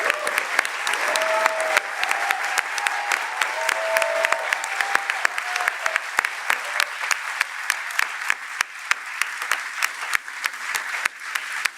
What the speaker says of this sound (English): Please join me in giving all of our uniters a huge round of applause for their work in